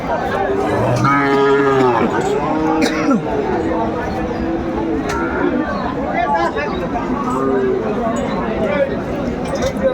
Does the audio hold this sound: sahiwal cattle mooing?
yes